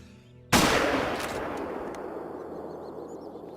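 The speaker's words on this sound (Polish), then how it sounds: "Spróbuję go ustrzelić z odległości." One sharp, loud hunting rifle shot in the video game theHunter: Call of the Wild cracks out after a brief quiet, then rolls into a long fading echo while faint birds chirp in the background.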